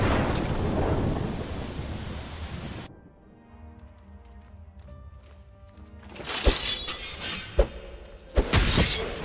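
Rain and rolling thunder in the ambience of a modded Skyrim game, with steady broadband rain at first, then a quieter stretch and several sharp, loud thunder cracks near the end.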